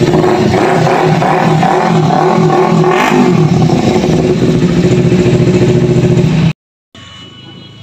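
Kawasaki Ninja FI motorcycle engine running loud and close at a steady, throaty idle, then cutting off abruptly, leaving quiet background noise.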